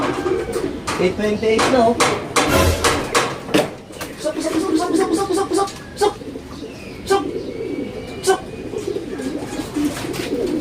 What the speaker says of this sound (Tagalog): Kalapati natin.